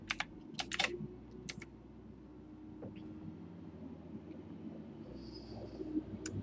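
Typing on a computer keyboard during a work session: a few quick bursts of close key clicks over a faint room hum, then a quieter stretch with occasional taps.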